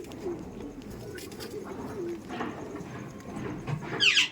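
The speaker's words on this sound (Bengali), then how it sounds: "পায়রা কিন্তু ভাইব্রেশন দিচ্ছে ওই দেখুন গলা কাঁপাচ্ছে" Giribaz pigeons in a loft, a male pigeon cooing with a vibrating throat, low soft coos repeating under a busy bird-filled background, with a brighter call near the end.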